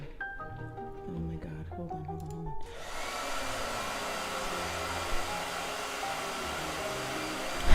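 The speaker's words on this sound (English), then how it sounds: "Blow dryer." A blow dryer switches on partway through and runs as a steady, loud broadband whoosh to the end, following a quieter stretch with talking.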